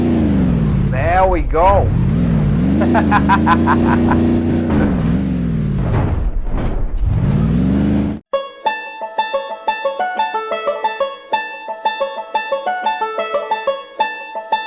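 Virtual car in BeamNG.drive dropped from neutral into low range, its engine revving up and sagging in loud, swelling waves for several seconds, with a brief spoken remark, before music takes over.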